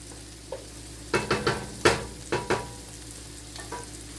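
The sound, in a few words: ragu bolognese sauce cooking over a medium fire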